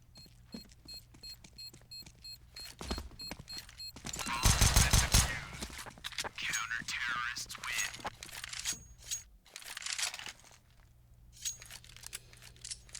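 Gunfire in a Counter-Strike match on the Mirage map, a dense burst of rapid shots around the middle with scattered single shots and game beeps before and after, under commentator talk.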